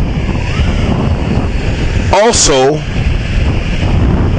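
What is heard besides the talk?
sea waves and wind at the seashore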